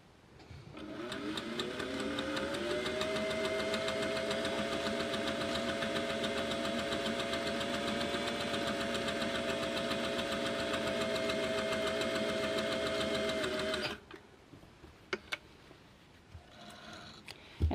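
Vintage sewing machine running a straight stitch at stitch length 12: a steady, close mechanical whir with a fast chatter, holding constant for about twelve seconds before stopping abruptly, followed by a few faint clicks and no talking.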